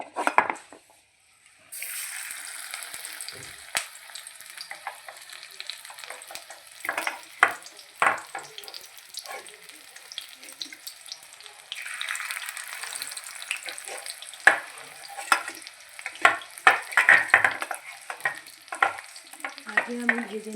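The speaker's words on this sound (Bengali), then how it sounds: "বক ফুলের যে বড়াটা আমি ভাজছি" Bok phool (sesbania flower) fritters coated in gram flour batter fry in hot oil, a soft steady sizzle broken by frequent sharp clinks and scrapes of a utensil against the pan.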